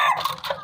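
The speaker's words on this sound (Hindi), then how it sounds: "गोल्डन मुर्गे ने 1 बार अजान दिया है" A Golden Misri breed rooster crows once, loud and close, a brief hoarse crow on a poultry farm.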